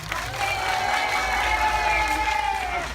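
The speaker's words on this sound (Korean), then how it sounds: "박수 감사드립니다" Cinema audience at a stage greeting in Lotte World Tower theater 13 applauds and cheers, a dense, loud wash of clapping with a rising voice over it, close and continuous for a few seconds.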